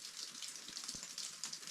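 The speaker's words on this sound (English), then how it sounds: "It started raining at about 8:30 this morning." Rain falling steadily above tree line in a mountain cirque, a faint, continuous hiss with soft scattered drops, fairly distant and even.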